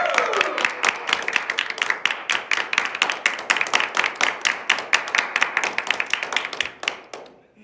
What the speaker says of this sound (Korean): 모두 박수!